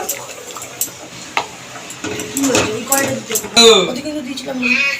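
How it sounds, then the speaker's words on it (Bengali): A spoon stirs a thick onion and cashew paste gravy in a pan, with scraping strokes and soft sizzling that grow louder toward the end, close and intermittent. "ভালো করে নেড়ে চেড়ে মিশিয়ে নেব।"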